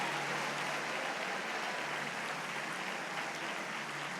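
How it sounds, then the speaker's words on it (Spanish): A church congregation applauds during a Sunday worship service, a steady broad wash of clapping that fills the room at an even level without a break. "Alguien puede aplaudir a Dios"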